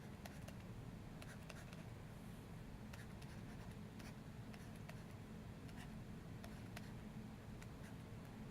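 A pen or pencil scratches and taps on paper while dot diagrams are drawn by hand, faint irregular ticks over a low steady background hum.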